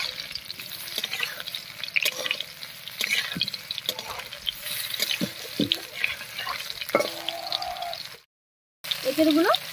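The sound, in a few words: frying young jackfruit pieces in hot oil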